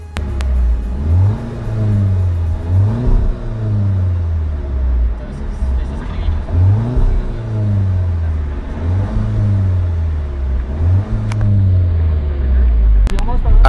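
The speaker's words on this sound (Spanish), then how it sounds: "Ahora vamos a acelerar este TT a ver qué tal suena." An Audi TT with a TFSI engine is revved repeatedly while standing, each blip rising and falling in a regular rhythm of about five or six pulls, loud and close with a rumbling exhaust note. A voice speaks between the revs.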